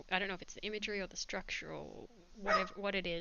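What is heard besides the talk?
dog barking in the background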